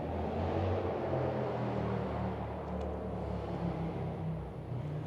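A motorcycle fitted with a TAB Performance Redline series 2-into-1 exhaust produces a steady, deep rumble that holds fairly even throughout, moderately loud and unaccompanied by talk.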